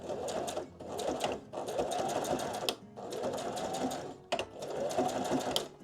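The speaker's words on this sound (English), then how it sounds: "I'll take it to my machine and I'll stitch across both those ends" A sewing machine stitches across the felt ends of a handmade fabric book page, running in loud, close, rapid bursts separated by brief pauses.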